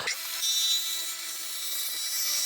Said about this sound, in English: I'm going to set my table saw up real quick and just run.